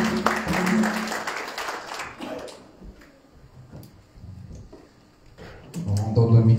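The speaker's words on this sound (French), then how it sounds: "Nous les acclamons très fort." Church congregation applauding a choir during a service, a burst of clapping and cheering at the start that fades into quieter murmuring before rising again near the end.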